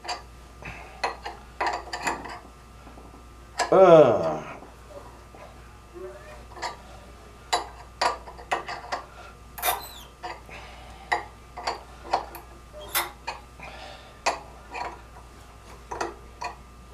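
Metal tap cutting threads into a handle, heard as a run of sharp, separate ratcheting clicks and ticks with uneven timing, with one longer grinding squeak in the middle. Fairly close and moderately loud, and no one talks.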